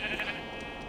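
A sheep in a Minecraft SurvivalCraft world gives one short, wavering bleat, close and fairly loud, before fading into steady game background noise.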